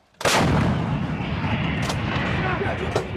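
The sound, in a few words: M777 towed 155mm howitzer artillery firing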